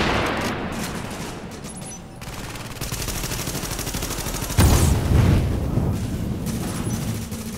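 Rapid bursts of gunfire in the video game The Division crackle and pop in quick succession, with a heavier boom partway through, loud and continuous.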